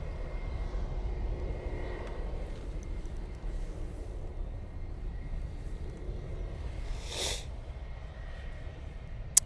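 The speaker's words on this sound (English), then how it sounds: "Aer Lingus A320." Aer Lingus Airbus A320 airliner at Manchester Airport, a faint, distant engine rumble sustained throughout, with a brief sharp noise near the end and no voices.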